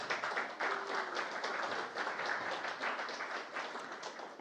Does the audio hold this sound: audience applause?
yes